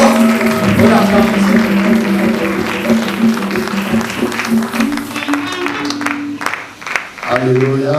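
Loud applause and cheering fill a church as the congregation acclaims, with sustained musical tones and voices running beneath the clapping until it briefly thins near the end.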